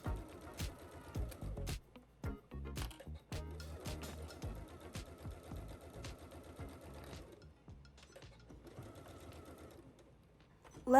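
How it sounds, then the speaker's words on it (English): Domestic sewing machine top stitching the edge of a bra, the needle running in a fast chattering burst that stops, restarts in bursts and ends with a soft clunk, quiet and close. "And then take this to your machine and give it a top stitch."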